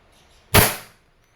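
A WE Hi-Capa T-Rex semi-automatic airsoft pistol fires a single sharp, loud shot into a chronograph, a crisp crack with a short decaying tail, alone and close.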